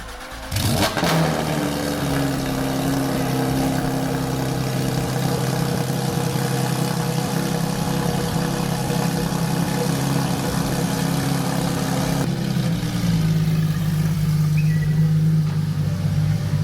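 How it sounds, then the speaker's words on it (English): A Porsche GT3 RS with a new Z-pipe exhaust cranks on a cold start and fires into a loud, deep exhaust burble, settling into a steady high idle, then dropping to a lower rumble near the end. "This is going to be the first start on the GT3 exhaust."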